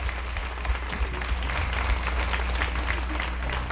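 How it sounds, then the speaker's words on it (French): An outdoor Relay for Life crowd in Terrebonne applauds cancer survivors, a thick continuous wash of clapping with a low rumble beneath, sustained evenly throughout. "Je pense qu'ils méritent une bonne main d'applaudissement."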